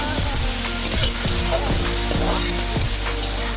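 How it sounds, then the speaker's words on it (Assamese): Taro leaves frying with small fish in a pan give a steady, close sizzle, broken by stirring scrapes at roughly even intervals, with no talking. "প্ৰথমতে মানে সুন্দৰকৈ গোটেইখিনি ভাজি ল'ম"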